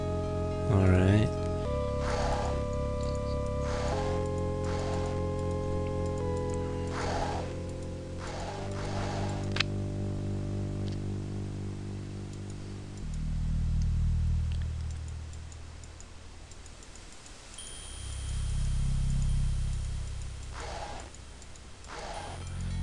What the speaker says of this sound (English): That sound you're hearing are the avian worms.